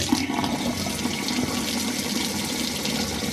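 Rainwater runs steadily from a gravity-fed PVC spigot on an off-grid rain collection system, a continuous close-up rush and splash of water with no talk.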